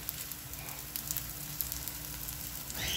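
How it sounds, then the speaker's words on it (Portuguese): Banana pieces frying in a frying pan make a steady, moderately quiet sizzle with fine crackling pops throughout, swelling slightly louder in the final half second. "Vamos deixar a nossa banana dourar."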